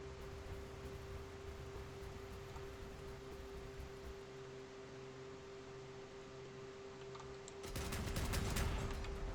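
A rapid-firing weapon in the vehicle combat game Crossout lets loose a dense, loud burst near the end, after a long stretch of steady engine drone and hum.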